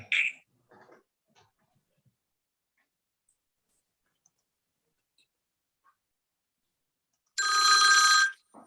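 A telephone rings once in a burst of about a second near the end, clear and fairly loud after near silence, with a faint voice briefly at the start, during an online meeting.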